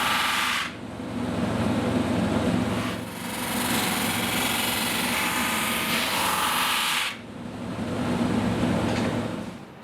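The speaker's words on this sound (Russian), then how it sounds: "пока я сделаю грубое шлифование на барабанном шлифовальном станке" A drum sanding machine rough-sands an end-grain wooden chessboard with a loud, steady whirring grind, swelling in repeated passes separated by brief drops to the idling motor.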